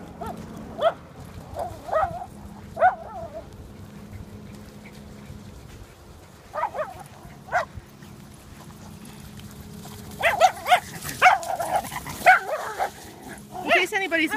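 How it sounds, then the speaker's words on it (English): Schnauzer dogs yip and bark in short, sharp bursts while playing, scattered across the scene at a moderate distance, with a person talking throughout. "That's just the way a lot of Schnauzers are. They're very vocal."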